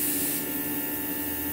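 An airbrush machine sprays makeup blush, giving a steady, close, continuous airy hiss with a faint mechanical hum underneath and no talking.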